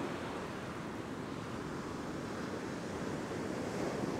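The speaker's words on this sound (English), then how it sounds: "It's just a really big open area where whatever ocean swell there is, you're going to get it here." Steady, soft surf rolls in on a big open ocean beach, a continuous broadband wash of swell with some wind noise and no voices.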